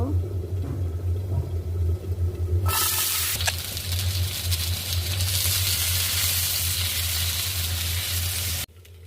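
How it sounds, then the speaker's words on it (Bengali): Green tomatoes fry in a pan for Bengali tomato bhorta. A low hum gives way to a loud, continuous sizzling hiss that keeps up steadily before cutting off abruptly at the end. "টমেটো ভাজিটা আমার হয়ে গেছে"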